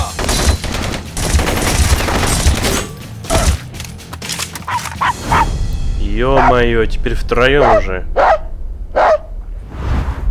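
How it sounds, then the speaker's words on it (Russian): Dogs bark and gunfire rattles in the action shooter Blue Estate. Rapid shots cluster early, then sharp, repeated barks and yelps mix with more bursts, while someone talks over the din. "Достали эти псины."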